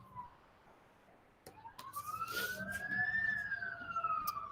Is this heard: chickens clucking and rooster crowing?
no